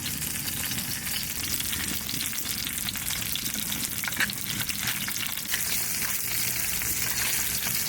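Fish pieces frying in mustard oil, a steady dense sizzle and crackle close by that holds for several seconds with no voices over it.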